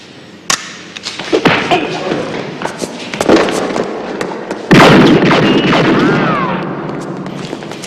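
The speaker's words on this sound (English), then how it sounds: "Shots fired." Gunshots in a crime drama, a series of sharp cracks and booms at irregular intervals building into a louder sustained burst of firing, with a chaotic, echoing scene between the shots.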